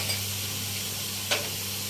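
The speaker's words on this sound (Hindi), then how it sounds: "इसी के साथ इसके अंदर ऐड हो जाएगा ये अदरक लहसुन का पेस्ट" Ginger garlic paste sizzles in a hot pan for mutton aloo gosht, giving a steady, close frying hiss broken by one brief stirring scrape.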